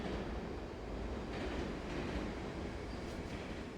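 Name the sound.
train station ambience in video game Yakuza 4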